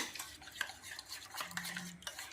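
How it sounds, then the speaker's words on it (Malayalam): A spoon stirs thick ragi porridge with added salt in a pot, giving soft, quiet scrapes and light metallic clinks in an irregular rhythm, close by, with no voices. "ഉപ്പ് ചേർത്തിട്ട് നന്നായിട്ടൊന്ന് മിക്സ് ചെയ്ത് എടുക്കാം"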